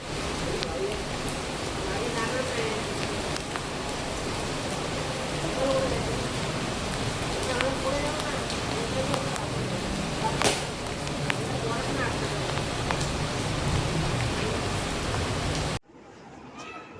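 Rain pours outside the Mahad Ganpati temple, a dense, even hiss of drops with occasional sharper taps on surfaces, steady and fairly loud before cutting off abruptly near the end.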